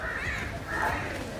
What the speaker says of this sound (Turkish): Kargalara bak hatta.